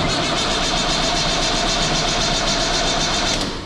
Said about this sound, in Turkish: Bir de boş boş marş yapalım.